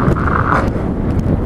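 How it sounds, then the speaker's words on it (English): Strong wind on an exposed hilltop, roaring and buffeting hard straight into the microphone as a dense, loud, continuous rumble throughout. "I'm like fighting the wind to walk"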